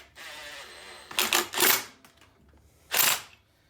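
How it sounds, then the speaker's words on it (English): An impact wrench tightening the bolt on a snowmobile primary clutch, a 2020 XCR 440/700 sled, fires in short loud rattling bursts separated by pauses, close up. "we're going to take your impact and we're going to slowly tighten it up"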